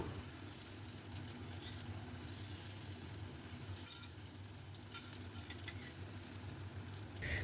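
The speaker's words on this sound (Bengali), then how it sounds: "বেশ লাল লাল করে আলু ভাজা হয়ে গেছে। এবার এই ভাজা আলু তুলে নেব।" Potatoes frying in mustard oil in a pan, a continuous soft sizzle and crackle of hot oil throughout, with light stirring scrapes and faint clinks, no talking.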